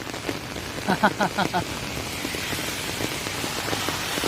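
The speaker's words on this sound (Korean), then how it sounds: "비도 많이 오고 아이고 비가 내려서 문제네요" Heavy rain falls in a steady, close patter, with a short spoken exchange over it near the start.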